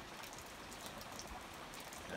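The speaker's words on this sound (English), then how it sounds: "I don't know what time it started raining" Steady rain falls outdoors on a rural property, a continuous broadband hiss with scattered drop patter running evenly throughout.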